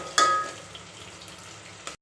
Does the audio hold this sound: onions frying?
yes